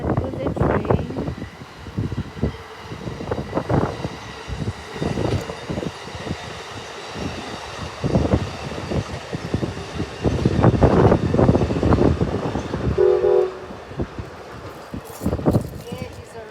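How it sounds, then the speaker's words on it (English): A train rolls past near the ocean with a rhythmic clatter of wheels on the rails that swells and fades, and a brief horn-like tone near the end, with people talking over it. "There goes the train."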